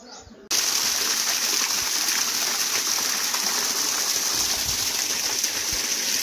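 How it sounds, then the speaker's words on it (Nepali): Water flowing along an irrigation channel into a field, a steady broadband rushing gush heard close and continuous after a brief quiet start. "कतिहरू देख्न सक्नुहुन्छ कुलोदेखि पानी गइरहेको छ"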